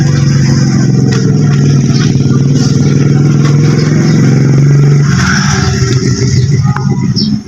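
The engine of a TMX125 Alpha motorcycle with a stalling problem runs loud and close in a steady drone, then shifts into a rougher, chugging idle near the end.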